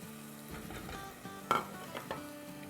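Ground spices sizzling in hot oil in a pan while a spoon stirs and scrapes them, with soft frying hiss and a few sharp metallic clinks of utensil against the pan.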